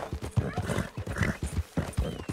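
Rhythmic clip-clop of horse hooves at a steady trot in the video game Red Dead Redemption 2, close and fairly loud, with a horse's whinny rising midway.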